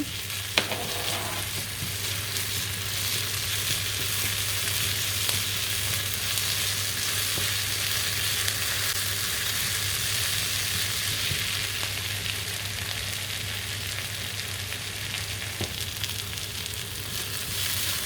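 Spices, chili flakes and tomato paste sizzle in a pan, a constant dense hiss held evenly throughout with a low steady hum beneath and a few faint stirring ticks.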